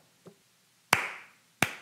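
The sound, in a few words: slow clap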